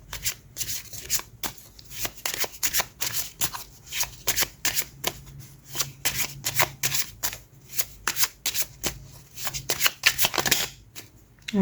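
A Magical Messages from the Universe tarot deck being shuffled by hand, rapid crisp riffles and card flicks in repeated bursts with short pauses, close and alone.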